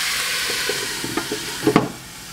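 A kilo of pork belly frying in a pan as its fat renders: a steady, bright sizzle under light stirring knocks and scrapes that grow busier toward the end.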